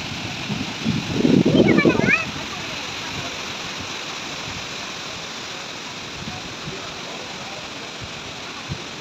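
Hogenakkal waterfalls roar as a steady, dense wash of rushing water; a voice briefly speaks over it near the start before the constant roar continues alone.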